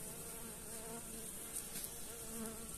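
A honeybee colony crowds the top of a hive in an apiary, giving a continuous soft buzzing drone from many bees, faint and steady with no talking over it.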